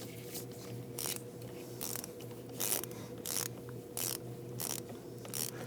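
A ratchet clicks in short, regular bursts, about ten of them, as the positive battery terminal nut on a 2009-2017 Volvo XC60 3.2L is tightened, with quiet pauses between the strokes.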